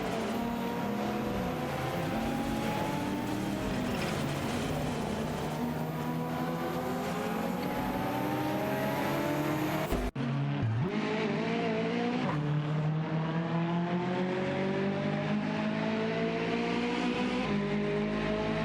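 Race cars, among them a Nissan Skyline GTR R32, battle in an AI racing video game: loud, continuous engine whine climbing through the gears with overlapping cars, briefly cut off midway and then resuming.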